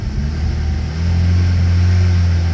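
A car engine idles at low revs, a steady deep drone that grows slightly louder and fuller after the first second, with no talking.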